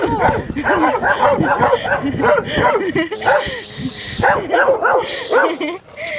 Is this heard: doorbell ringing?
no